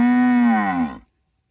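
Holstein Jersey cross cow giving a single loud, close moo lasting about a second, its pitch sliding slightly before it stops abruptly into silence.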